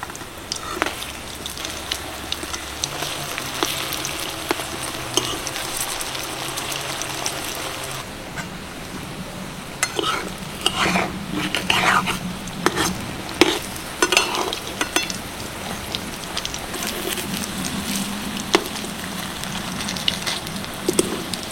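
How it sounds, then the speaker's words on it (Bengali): Battered potato pieces frying in hot oil, a steady close bubbling sizzle with scattered crackles and occasional utensil scrapes, going on without pause and with no one speaking. "এগুলো 1 পিঠ ভাজা হয়ে গেছে, এবার উল্টে দেব।"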